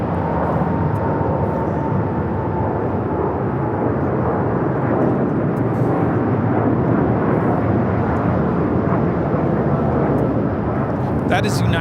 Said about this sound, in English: That is United Airlines Flight 32 taking off to Tokyo Narita on the 787-9 Dreamliner.